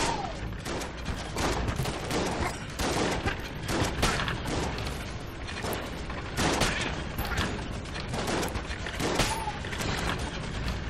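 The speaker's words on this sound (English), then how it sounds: "Our regular shotgun, as we can see, is losing its effectiveness." Shotgun blasts and other gunfire from the Enter the Gungeon video game come in a dense, continuous barrage of loud overlapping bursts and booms, with game effects mixed throughout.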